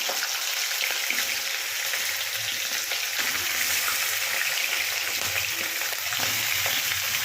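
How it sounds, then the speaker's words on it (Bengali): Raw chicken pieces frying in hot oil in a pan, a loud, dense, continuous crackling sizzle that holds steady throughout with no voices. "এখানে আমি এবারে এই কাঁচা মাংসগুলো ছেড়ে দেবো। এটা একটু ভালো করে ভেজে নিতে হবে।"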